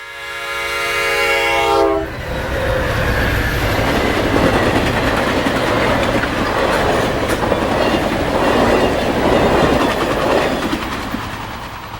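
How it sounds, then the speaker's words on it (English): An Amtrak passenger train passes at Gibbs on the Santa Fe line, opening with a loud horn blast, then a close, steady roar of wheels and rhythmic clickety-clack from the passing cars that holds loud throughout. "Amtrak provides a fitting end to the activities at Gibbs."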